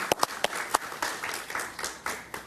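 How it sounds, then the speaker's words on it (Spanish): Studio audience applause during a televised political interview show, a fairly faint patter of distinct sharp claps in an uneven rhythm, heard alone without talk. "un aplauso para Paquita, que está por aquí."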